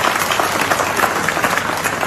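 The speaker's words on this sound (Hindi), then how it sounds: "जोरदार ताली बजाइए।" A crowd at a public event in Rewa claps loudly and steadily, a dense, continuous patter of many hands with no break over two seconds.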